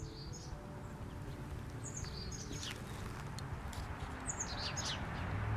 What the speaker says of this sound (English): There's a chickadee in this tree.